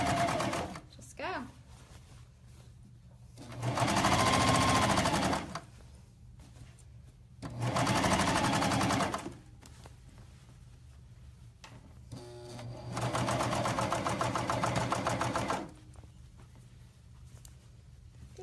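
A sewing machine stitches a jogger hem in three loud bursts of a few seconds each, with quiet pauses between where a person talks softly and fabric is handled.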